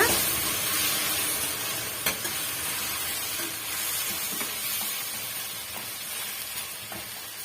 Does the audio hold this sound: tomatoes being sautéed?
yes